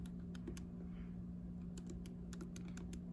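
Calculator keys are tapped to enter the elements of a 3x4 matrix, giving faint, light clicks in uneven short runs over a steady low hum.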